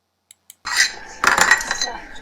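Cups set down on a table, two tiny ticks followed by a clattering, clinking ceramic knock and a second louder clatter close by.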